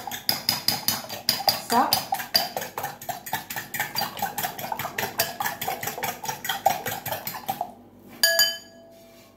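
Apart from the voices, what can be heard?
beating egg mixture with vinegar in a bowl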